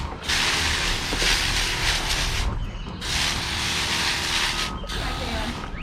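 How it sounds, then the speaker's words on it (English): A pump sprayer hisses steadily as oak leaf hydrangeas and other shrubs are sprayed on the grounds of a large property in North Baltimore, in two long bursts broken by short pauses, close and loud. "Get all this sprayed."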